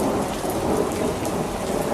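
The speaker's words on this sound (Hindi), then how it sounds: "ये देखो बारिश भी आ गई, यानी मॉनसून आ गया।" Heavy monsoon rain pours steadily with rolling thunder, a dense, continuous roar of rainfall hitting surfaces with no voices present.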